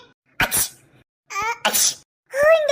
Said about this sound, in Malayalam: ദൈവമേ, തുമ്മി തുമ്മി എന്റെ നടു അടിഞ്ഞ്.